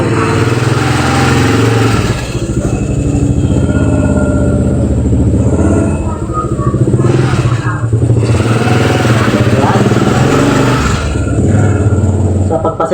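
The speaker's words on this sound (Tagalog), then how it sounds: "Pasensya nyo na maingay. Alam nyo naman, nasa ano tayo, tabing kalsada." Roadside street traffic passes close by, loud engine drones and light motorbike-like revs rising and falling in waves, with a brief voice cutting through the steady roar.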